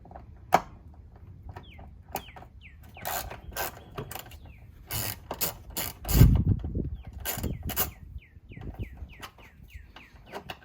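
Ratcheting wrench clicks in quick bursts while bolts are loosened under a pried-up clip cover on a Jeep Wrangler during a running-board install, with a few louder knocks and birds chirping in the background.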